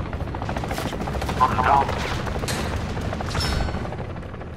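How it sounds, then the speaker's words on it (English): A chopper gunner helicopter fires in Call of Duty Modern Warfare, with dense gunfire and rotor roar filling the clip and a brief spoken exclamation over it. "Allied chopper gunner arriving now."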